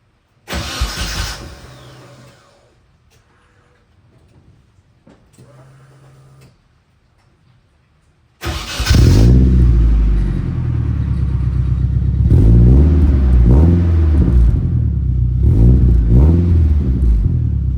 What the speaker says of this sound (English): We're gonna do a cold start and see how this new mod to the exhaust sounds.